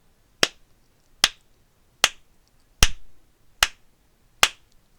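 Six sharp percussive hand claps at an even pace, about one every 0.8 seconds, keeping a steady two-beats-per-measure pulse for a song accompaniment, close and clear with quiet gaps between.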